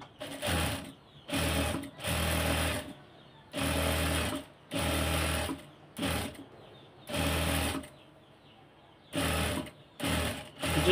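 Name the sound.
sewing machine stitching lace onto a sleeve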